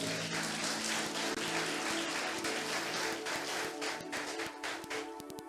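A church congregation applauds during a sermon, a dense, steady roar of many clapping hands from the room. Toward the end it thins into scattered individual claps.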